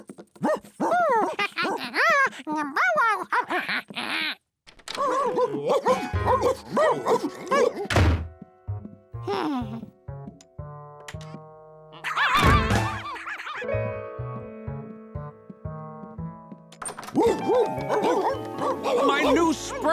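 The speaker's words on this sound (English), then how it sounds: "George, there are like 20 dogs in here." A crowd of cartoon dogs barks and yips in quick bursts, mixed with thumps and background music, while characters talk over parts of the scene.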